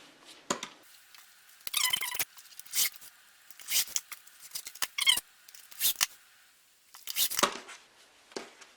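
Scissors cut fabric binding strips for a jelly roll bar quilt, a series of close, crisp snipping and slicing strokes in irregular bursts with short pauses between.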